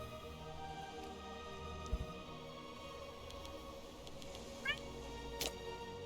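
A cat meows a few times, short and fairly faint, over a steady background of game music and ambient noise.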